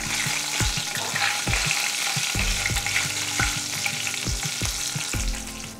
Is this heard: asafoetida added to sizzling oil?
yes